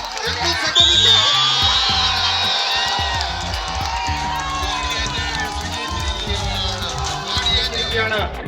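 Crowd at the Chicago Social Club International Tug-of-War Tournament 2024 roars and cheers in a steady, loud mass of noise, with an announcer's voice running beneath it.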